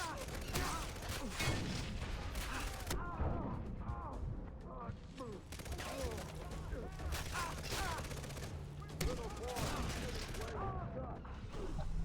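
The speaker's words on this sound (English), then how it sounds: "They're shooting rockets at me." Rockets and gunfire in the video game Far Cry 3, a dense run of repeated blasts and crackling shots from close by, with a person talking excitedly over the combat noise.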